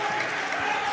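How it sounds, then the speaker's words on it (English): Applause from a high school boys basketball crowd fills the gym in a steady, dense patter of clapping with some crowd noise mixed in. "The crowd's getting into it."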